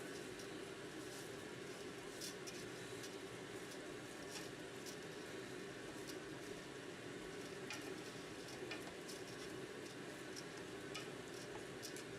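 Rice grains are stirred through melted butter in a pan while making risotto alla milanese, giving a quiet, steady sizzle with faint scraping and small ticking clicks throughout, and no talking.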